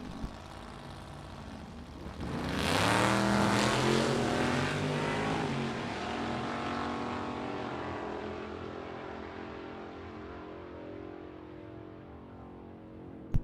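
A vintage drag race run between a Corvette and a 1955 Chevy, with loud engines roaring past nearby. The sound swells sharply, then fades slowly as the cars pull away down the strip.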